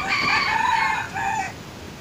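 A Sumatran red junglefowl rooster crows close by in a loud, clear two-part call. A long first phrase breaks briefly, then a shorter closing note follows and fades into quiet.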